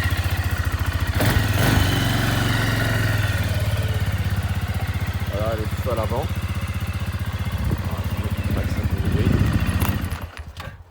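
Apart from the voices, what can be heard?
450 Maxxer quad ATV engine started and idling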